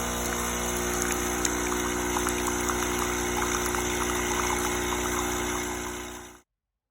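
A Nespresso coffee machine pumps water through a cleaning cycle with a steady, close mechanical hum and watery gush that runs for several seconds, then cuts off abruptly.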